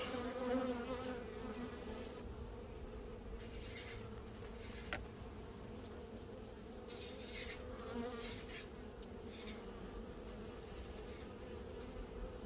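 Honey bees from a newly installed package colony buzz around the hive frames, a continuous, even hum from many insects close by, with no talking.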